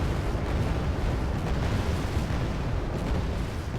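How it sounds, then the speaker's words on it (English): Continuous rumbling barrage of tank cannon fire and explosions in a war video game, dense and loud throughout with no clear gaps between blasts. "So yeah, we're just firing away."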